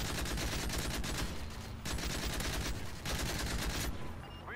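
Rapid sustained gunfire in Call of Duty Modern Warfare 3 SpecOps, loud continuous bursts of shots with a couple of brief pauses, ending in a quieter tail.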